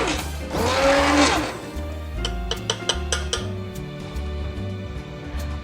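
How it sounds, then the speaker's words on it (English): A stick blender purees marinara sauce in a pan, giving a loud whirring burst near the start, then lighter clinks and bumps against the pan. "The key to a stick blender is to keep the bottom of it in the bottom of the pan."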